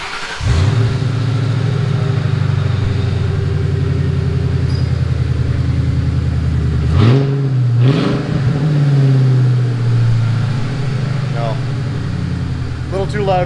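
A Mercury car engine fitted with Walker dual exhaust and an H-pipe idles with a loud, steady rumble, rising briefly in a couple of revs midway before settling back.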